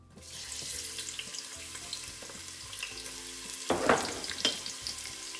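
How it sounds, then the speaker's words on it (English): Onions frying in hot oil in a pan, a steady broadband sizzle throughout with a brief louder burst of crackling and stirring near the end, no talking. "Now that our oil is nice and hot, we're gonna go ahead and add the onion to the mix."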